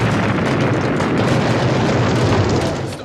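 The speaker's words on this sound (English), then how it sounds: "So many explosions." Explosions in the 1984 movie Firestarter, a dense, loud, rumbling roar of blasts and fire that stays continuous and thick before tapering off at the end.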